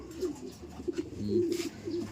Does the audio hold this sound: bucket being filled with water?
no